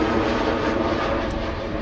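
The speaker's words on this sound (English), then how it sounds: "Embraer 190 from KLM arriving from London City." A KLM Embraer 190 jet arriving at Amsterdam Schiphol from London City roars loudly and steadily as it passes nearby, a continuous broad engine rush with no talk.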